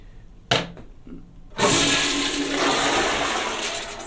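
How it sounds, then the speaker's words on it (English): A hotel toilet gives a sharp click, then a loud, violent rushing flush that swirls on steadily, close up and with no one speaking. "It's a very violent flush."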